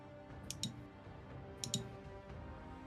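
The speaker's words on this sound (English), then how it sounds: "Also, DK, we're getting a lot of your mouse clicks and stuff like that through tonight for some reason" Computer mouse clicks come through a voice call as two quick double-clicks about a second apart. They are faint and close, over a low background hiss.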